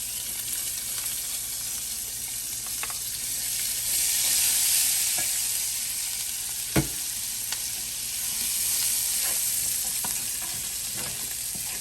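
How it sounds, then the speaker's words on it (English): Garlic and ginger sautéing in canola oil, a steady, moderate sizzle with occasional stirring clicks and one sharp knock partway through. "I'm going to saute these for a little while, and then I'm gonna add the other veggies."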